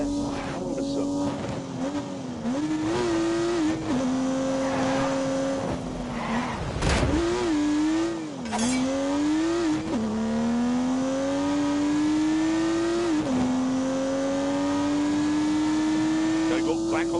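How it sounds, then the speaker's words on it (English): A turbocharged 3-litre straight-six engine revs hard in The Grand Tour racing game, rising and falling through repeated gear changes with a brief skid-like burst midway, steady and prominent throughout. "unleashed 365 rampaging horsepower from the turbocharged 3-litre straight 6"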